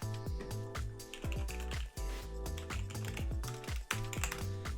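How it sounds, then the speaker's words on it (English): Someone types keywords on a computer keyboard in a rapid, uneven run of close clicks, set against a steady tonal backdrop. "I'm typing in things that come to mind"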